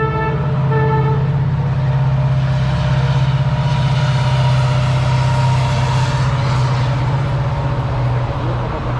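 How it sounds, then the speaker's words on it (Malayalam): A train passing by on a bridge near the backwaters of Munroe Island, a loud steady rumbling roll with a sustained droning tone and a horn-like toot at the start, close and continuous throughout. "ഇത് അടുത്ത ട്രെയിനും കൂടെ പോകുന്നു."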